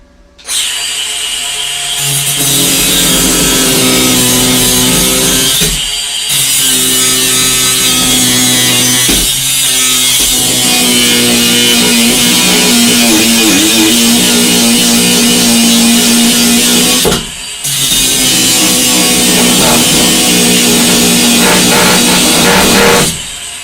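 Angle grinder cutting metal in a car engine bay during a shaving job, a loud, close, continuous grinding whine broken by a couple of brief pauses, with no talk.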